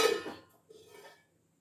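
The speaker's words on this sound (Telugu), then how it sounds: "ఇప్పుడు మళ్ళీ మూత పెట్టాలి" A metal lid set back onto a cooking pot while making sweet bhoori halwa, a short clanging contact followed by a softer second rattle, close and brief with nothing else around it.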